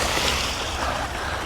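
Water from a hose dumped out for chickens on a farm, a steady broad splashing rush that stays loud and even throughout, with no talk.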